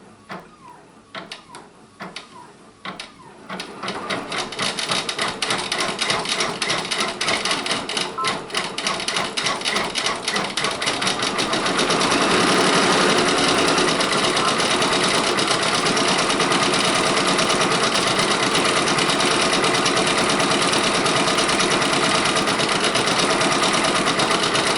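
A Brother Persona PRS 100 embroidery machine stitches a reindeer applique, starting after a few quiet seconds with a fast, steady needle chatter that grows denser and louder and runs on continuously and close.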